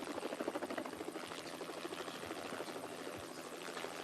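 A helicopter passes overhead during a Giro d'Italia mountain stage, its rotor chop a steady, dense throb that holds at a fairly constant level throughout, with no voices.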